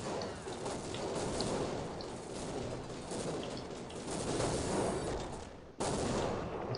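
A firework cannon weapon fires nonstop in Counter-Strike Online, building a dense, crackling barrage of blasts and scattered pops that stays loud throughout, with a brief cut near the end.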